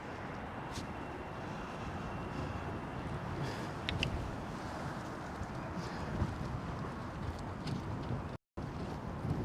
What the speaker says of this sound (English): Oh, this wind is crazy cold.